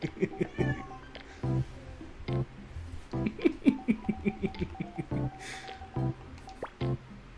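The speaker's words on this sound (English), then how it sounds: "But she did just meow, and I did hear her." A pet cat meows several times at close range, short rising calls amid wet, squishy clicking noises and soft household sounds.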